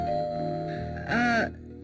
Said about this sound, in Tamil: வெளிய யாரோ காலிங் பெல் அடிக்கிறாங்க